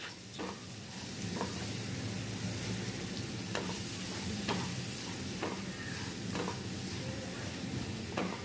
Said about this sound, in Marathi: छान पालक सगळा मिक्स करून घ्यायचा आहे.